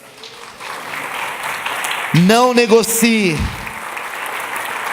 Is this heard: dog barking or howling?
no